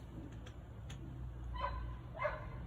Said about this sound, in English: Another dog is barking.